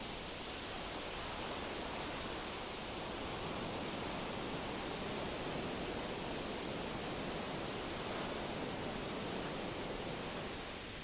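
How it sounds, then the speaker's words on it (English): Ocean waves wash onto a driftwood-strewn beach in a steady, unbroken roar of surf, with no distinct single crashes standing out and no voices. "The waves run in and then rush out again with a whoosh."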